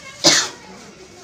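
A single short, sharp sneeze bursts out close by against a quiet room, followed by a faint voice sound at the end.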